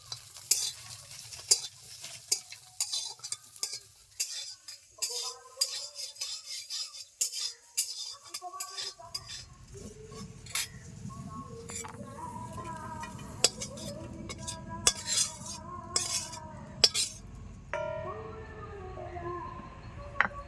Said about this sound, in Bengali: যতক্ষণ না একটু কালচে কালচে হয়ে আসছে ততক্ষণ কড়াইতে রেখে নেড়ে চেড়ে নেবো